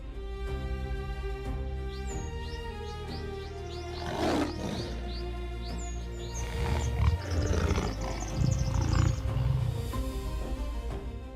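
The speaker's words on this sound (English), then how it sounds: "The lion's roar is a clear declaration of power." A lion on the savanna lets out a deep, powerful roar that builds and swells over several seconds, with birds chirping in the background.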